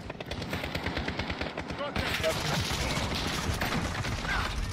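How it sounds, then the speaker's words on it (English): Rapid automatic gunfire from a video game shooter, continuous bursts of machine-gun fire filling the scene, loud and close with overlapping shots throughout. "I'm getting shot left and right, bro."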